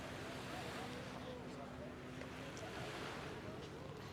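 Sea waves wash in at a beach in Pattaya, Thailand, as a continuous broad surf roar mixed with wind buffeting the microphone, with faint background voices.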